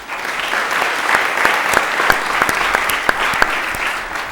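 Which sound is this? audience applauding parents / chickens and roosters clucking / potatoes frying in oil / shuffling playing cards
audience applauding parents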